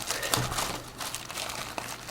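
A plastic bag holding printed documentation for a Thermaltake eSPORTS Azurues gaming mouse is crinkled open, with soft crackling and rustling across a couple of seconds and a few sharper crinkles near the start and end.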